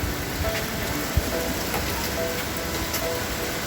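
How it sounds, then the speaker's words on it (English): Steady rain falls on woodland and a roof, a dense, even hiss with scattered drips and a faint thump, with no voices. "Oh, raining off to the distance there."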